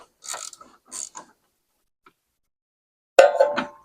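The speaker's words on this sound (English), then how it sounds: "When it makes that click, click, it's ratcheting." A hand ratchet clicks while car shocks are replaced, sounding as a few short, sharp metallic bursts near the start, a long silent gap, then a louder cluster of clicks toward the end.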